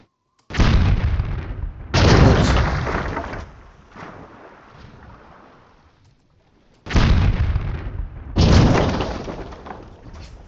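Cannon fire in the Patrician 3 video game: a handful of heavy, booming blasts in separate bursts, each followed by a rumbling decay, loud and close with no talking.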